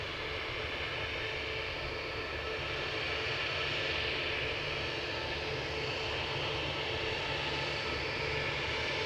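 An American airliner takes off from runway 6 right at Cleveland, a loud, steady broadband jet roar that holds throughout with no voices.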